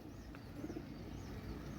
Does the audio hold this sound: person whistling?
no